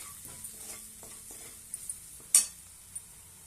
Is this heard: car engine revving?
no